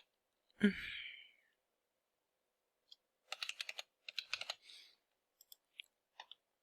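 Quick bursts of typing on a computer keyboard while entering an email and password to log in, close and quiet, after a short sigh-like breath at the start, with a few single key taps at the end.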